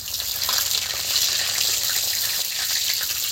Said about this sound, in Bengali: দেখছেন এবার ধীরে ধীরে ওই যে চটচট চটচট করছে।